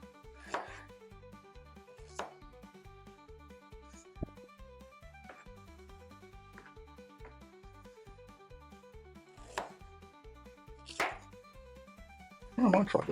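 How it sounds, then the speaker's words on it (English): Fresh young ginger sliced with a kitchen knife, several separate crisp cuts spaced a few seconds apart over a soft, faint background, with a louder burst of chopping near the end. "Just slice through, it's not stringy at all."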